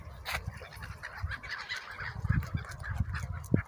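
Several gulls call in short, harsh, repeated squawks in Crimea, fairly near, overlapping one another outdoors.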